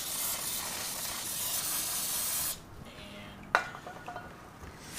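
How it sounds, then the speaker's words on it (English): A loud continuous aerosol spray of brake cleaner on a 2015 Honda CBR600RR motorcycle header hisses for a couple of seconds, then cuts off, followed by a sharp clink and faint handling noises. "You gotta use a whole can of brake clean."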